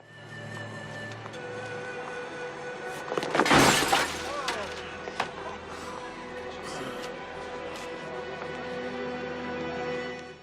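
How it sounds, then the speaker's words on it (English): Breakaway sugar glass shatters loudly in a film stunt, one sharp crash with tinkling debris over a steady background hum, while a voice talks throughout. "because it was really just broken sugar glass"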